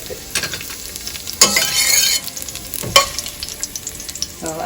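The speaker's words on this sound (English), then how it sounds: "So I'm gonna fry the shallots first" Shallots fry in a pan with a steady close sizzle, broken by a couple of louder stirring scrapes.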